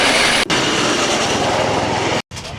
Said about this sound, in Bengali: লাক্সার স্টেশন থেকে আমাদের ট্রেন রওনা দিল আমাদের শেষ গন্তব্যে হরিদ্বারের উদ্দেশ্যে